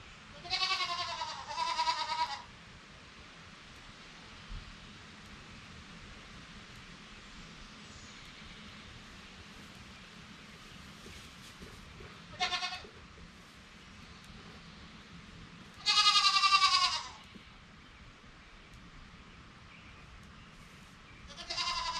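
Baby goats near a barn in an overgrown garden bleat in a few separate bursts, loud and close, over a steady background hiss in light rain.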